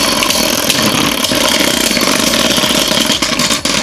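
Beyblade Burst Superking tops, including Jet Wyvern and Helios, spinning and clashing in a stadium, a loud continuous whirring grind that holds steady for a few seconds.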